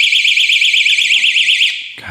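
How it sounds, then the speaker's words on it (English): A door wedge alarm blares a loud, warbling electronic tone up close, pulsing steadily for nearly two seconds before cutting off abruptly. "It's a door wedge alarm. And if a door opens,"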